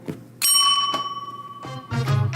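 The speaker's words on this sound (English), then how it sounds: "Let's hit the bell and move on." A bright bell chimes once on a real estate talk show, ringing out clearly and close, its tone lingering and decaying over about a second before voices and studio noise return.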